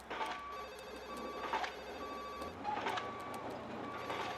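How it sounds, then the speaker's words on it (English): Telephone ringing in a busy work or school setting, repeated bright ring bursts spaced about a second apart, moderately loud over a low background hum, no talking. "phone, it never stops ringing"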